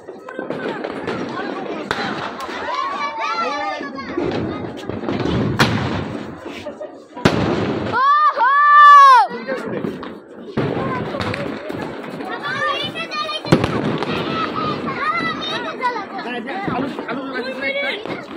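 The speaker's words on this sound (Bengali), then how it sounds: "তো গাইস আতশবাজি ফুটাইতেছে" Repeated bangs and crackles of fireworks exploding nearby at a New Year celebration, mixed with people chattering and shouting throughout, one loud whistling burst standing out midway.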